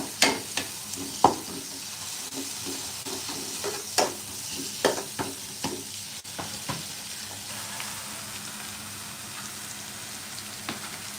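Chopped onions fry in hot oil in a pan with a steady sizzle, broken by repeated scraping and clinking stirs that come thick at first, then thin out.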